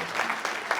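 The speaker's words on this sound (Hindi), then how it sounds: "एक बार सारा सदन उनके लिए, सर्वेश अस्थाना जी के लिए तालियां।" A brief burst of steady applause from the audience at a Hindi comic poetry gathering, dense clapping filling the room with no break.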